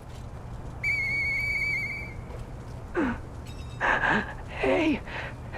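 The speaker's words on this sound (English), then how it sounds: "I know that whistle." A steady, clear whistle in the video game Lies of P sounds for about a second, followed by a few breathy gasps and voiced sighs over low background hum.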